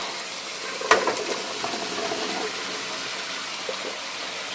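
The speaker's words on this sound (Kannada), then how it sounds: "ನೋಡಿ ಇವಾಗ ಕುಂಬಳಕಾಯಿ ಹಾಕ್ಕೊಂಡಿದ್ದೀನಿ ಇದನ್ನು ಹಾಕ್ಕೊಂಡು ಚೆನ್ನಾಗಿ ಒಂದು ಸತಿ ಮಿಕ್ಸ್ ಮಾಡ್ಕೋಬೇಕು" Pumpkin pieces frying with half-cooked tomato in a pan, a steady close sizzle with a sharp scrape of stirring near the start and soft stirring clatter after.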